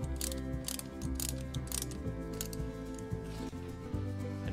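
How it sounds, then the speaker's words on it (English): A wrench tightens tire locking chocks between the wheels of an RV trailer, giving a steady run of close ratcheting clicks and mechanical gear-like whirring with no talk. "using the wrench provided, we're just gonna tighten them up, thus locking our tires in place"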